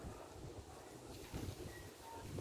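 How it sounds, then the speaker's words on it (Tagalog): Strong wind gusts through a garden in Brazil as faint, rushing microphone buffeting that swells midway, with no voices. "Lakas ng hangin"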